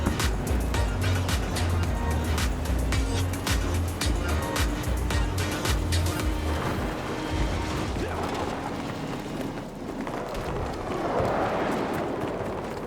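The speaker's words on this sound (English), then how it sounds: "I'm in the truck." A truck in a military shooter video game rumbles and clatters with mechanical rattling and a rising engine whine, loud and continuous, as gunfire-like cracks and game effects mix in.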